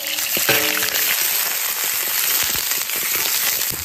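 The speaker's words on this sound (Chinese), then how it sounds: "骨头倒进来炒" Pork ribs stir-frying in hot oil in a rural home kitchen, giving a loud, steady sizzle with dense crackling pops and a few sharp spits and knocks throughout.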